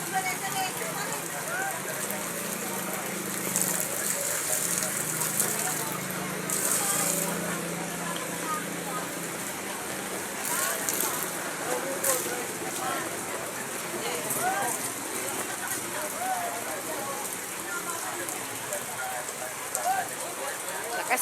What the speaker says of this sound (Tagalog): Lakas ng ulan. Maulan na umaga.